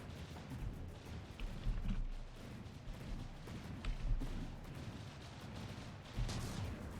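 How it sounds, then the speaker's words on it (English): Ship's ammunition cooking off in a naval combat video game after a hit, a rolling series of distant booms and gunfire-like cracks, faint and dense over several seconds. "Ah, the ammo blew up. Right, you hit the ammo and it blew up goddamn everything."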